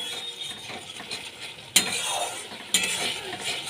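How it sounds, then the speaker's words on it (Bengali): Turmeric, Kashmiri chilli and cumin powders being stirred and fried with cauliflower and potato in a pan, a soft sizzle with scraping strokes and two sharp spoon clanks against the metal, close, no voices. "ভালো করে কষিয়ে দিচ্ছি ভালো করে মশলার মধ্যে কষিয়ে নিতে হবে"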